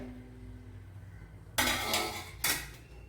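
A metal lid lands on the cucumber curry pot with a bright clatter, followed by a second clink as it settles, both loud and close after a quiet kitchen hum.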